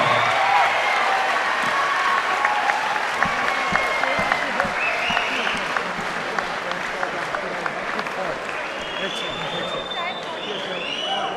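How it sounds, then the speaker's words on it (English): A boxing event audience applauds steadily after a fight decision, a dense wash of clapping with scattered cheers, while a ring announcer speaks over the crowd. "How about a big round of applause for a gallant warrior, Dane Campbell."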